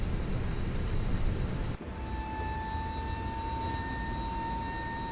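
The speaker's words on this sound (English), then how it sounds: "They're noisy. Hydraulics." Hydraulic whine as the cargo doors of a Fenix Airbus A320 close in Microsoft Flight Simulator 2024, a steady tonal hum over a continuous engine-like rumble, rising after a brief dip.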